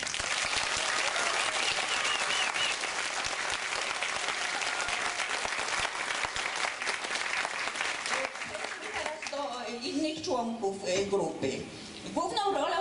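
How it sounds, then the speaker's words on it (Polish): Audience applause after an amateur theatre group's performance of a play, dense sustained clapping for about eight seconds that thins out, then a voice begins speaking as it fades. "Dlatego y, myślę, że należą mu się duże, duże brawa."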